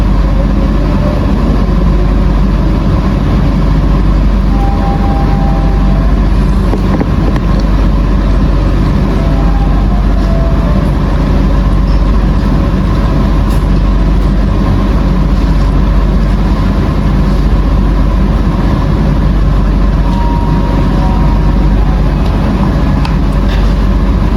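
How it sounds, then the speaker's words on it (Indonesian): The Kaligung passenger train, hauled by a locomotive nicknamed Donald Bebek, pulls out of Pekalongan station with a loud, continuous low rumble of wheels and engine that holds steady and unbroken. "Kembali diberangkatkan dari Pekalongan kereta api Kaligung"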